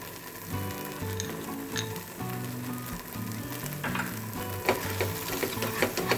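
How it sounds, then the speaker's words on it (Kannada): Jackfruit halwa is stirred in a pan over a low flame, a thick bubbling sizzle with repeated scraping spatula strokes, over a background of faint tonal music-like hum. "ಸಿಮ್ಮಲ್ಲೇ ಇಟ್ಕೊಂಡು ಚೆನ್ನಾಗಿ ತಿರುಗಿಸಿ ಫ್ರೆಂಡ್ಸ್"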